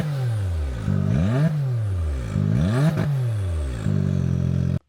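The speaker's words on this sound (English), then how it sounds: "We installed the twin exit exhaust." A Can-Am Maverick R fitted with an Evo twin exit exhaust and Evo DCT and ECM tunes revs up close, with three or four throttle blips climbing and falling in quick succession, then cutting off abruptly.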